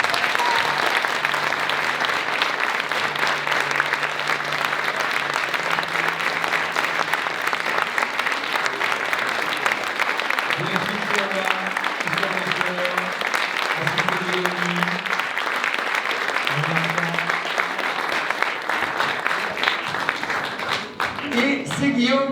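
Sustained audience applause at a florists' award ceremony, dense clapping that fills the room for a long stretch while a voice speaks over it intermittently, ending with a few sharp bursts.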